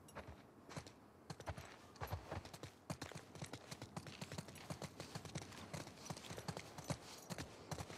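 Horse hooves clip-clopping in the video game The Last of Us Part II, a steady run of close, sharp hoof strikes on hard ground with a faint ambient backdrop and no talk.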